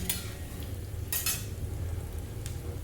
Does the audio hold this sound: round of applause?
no